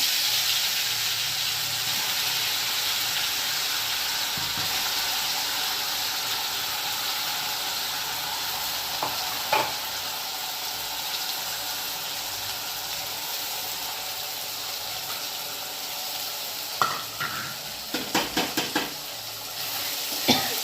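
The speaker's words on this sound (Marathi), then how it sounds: "आता हे छान जिरं तडतडलं." Cumin seeds with curry leaves and masala crackle in hot oil for a tempering, a steady close sizzle and hiss throughout, with a few clinks of a utensil against the pan near the end.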